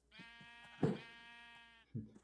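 Minecraft sheep bleats once in a long, wavering baa lasting over a second, with a short thump before and a brief bump of game noise after.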